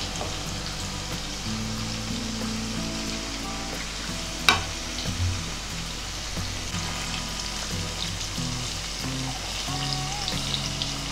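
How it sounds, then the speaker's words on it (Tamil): Paneer frying in hot oil in a kadai, giving a steady close sizzle and crackle with a single sharp clink partway through, no talk. "இப்போ நம்ம பன்னீரை ஃபஸ்ட்டு பொரிக்க போகிறோம்"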